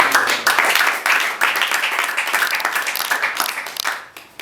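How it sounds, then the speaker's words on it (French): Applause from an audience at a public thesis defence in business planning and management, dense and continuous right away, then thinning and fading out toward the end. "Applaudissez."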